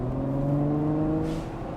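Naturally aspirated Ferrari engine with no turbo or hybrid assistance, a steady harmonic drone with layered tones that hum evenly for almost two seconds before easing off, heard close and with no talk over it.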